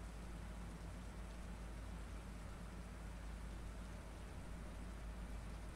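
Steady rain in the Phasmophobia video game, a constant broadband hiss with a low rumble underneath, faint and unbroken throughout, with no talk.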